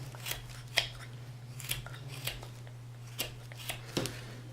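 Carving knife trimming wood on a small relief carving for a bolo tie, a series of quiet, irregular crisp slicing scrapes against a steady low hum.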